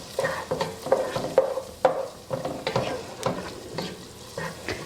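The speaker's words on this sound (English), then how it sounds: "So stir it around just a little bit" A spoon scrapes and stirs flour into melted butter and onions in a pot, making soft, rhythmic strokes over a gentle, steady sizzle.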